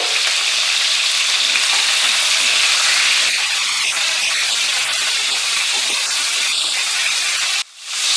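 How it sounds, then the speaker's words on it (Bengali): Pieces of pointed gourd (potol) frying in oil over medium heat, a steady, loud, broadband sizzle that runs unbroken until a brief dropout near the end. "মাঝারি আঁচে সময় নিয়ে কিন্তু পটলগুলোকে খুব ভালো করে ফ্রাই করে নিতে হবে।"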